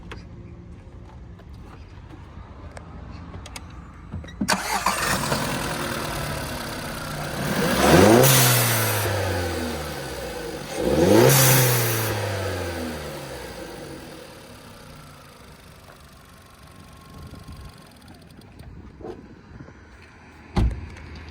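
A car fitted with a £30 aftermarket dump valve starts up nearby, idles, then revs hard twice. Each surge climbs and falls away with a rushing release hiss before settling back to a quiet idle.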